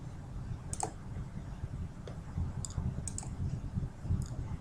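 Mouse clicks while editing in a DAW, a few short sharp clicks scattered over quiet background, some in quick pairs.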